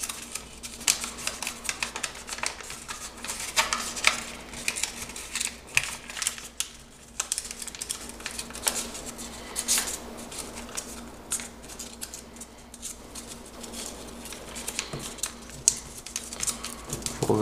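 Paper is folded and creased into an origami crow, a steady run of close, light crinkles, taps and rustles that continue without a break, soft and dry.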